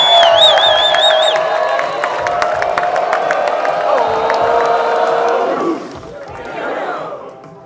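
Audience at a comedy show cheering, whooping and clapping loudly, a rowdy burst of voices and claps that drops off near the end into quieter crowd noise.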